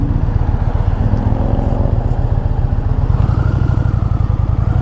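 A 2026 Indian Pursuit Dark Horse motorcycle engine runs at a steady, deep, pulsing rumble, loud and close with a slight mechanical clatter.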